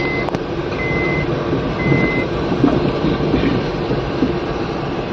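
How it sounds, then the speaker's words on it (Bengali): A train rumbles past on the Farakka Bridge in a continuous, heavy roar, with faint metallic clatter over the steady noise. There is no talking. "ট্রেন যাচ্ছে। এটা ফারাক্কা ব্রিজ।"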